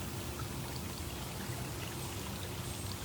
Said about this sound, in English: You can see behind him there's a little spigot that is constantly flowing new fresh water in,